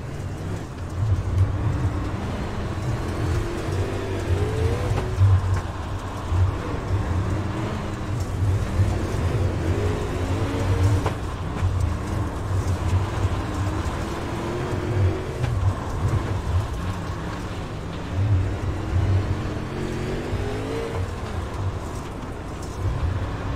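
Super late model race cars circle a small, slick dirt track at the Chili Bowl, their engines a steady rumbling drone with repeated rising and falling throttle swells, heard continuously from a moderate distance.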